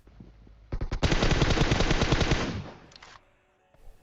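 Gunfire in PUBG Mobile, with a Groza rifle in play: one shot, then a dense, loud, rapid automatic burst of about two seconds that cuts off, followed by a few fainter shots.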